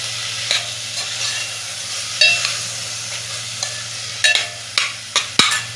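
Masala rice ingredients (lentils, potato and peas) sautéing in a pan, with a soft steady sizzle and a low hum beneath, broken by sharp scraping stirs that come more often toward the end.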